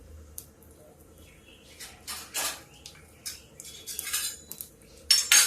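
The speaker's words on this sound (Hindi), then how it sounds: "ये देखिए, 1 चम्मच जीरा डाल दिया। अब इसको हम भूनते हैं।" One spoonful of cumin seeds is roasting in a pan, with scattered spoon scrapes and metallic clinks, sparse at first and then busier, a soft crackle faintly underneath and a louder rattle at the end.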